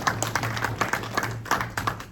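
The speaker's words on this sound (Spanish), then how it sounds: "Un aplauso." Scattered audience applause after a knife demonstration in a class, a loose run of individual claps at moderate volume over a low background hum.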